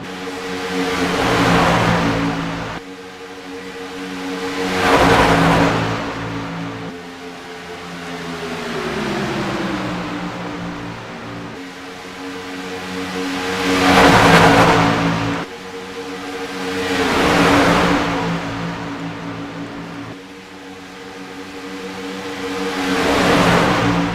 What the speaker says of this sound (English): This is where you want to turn it up and see these trucks moving through the field.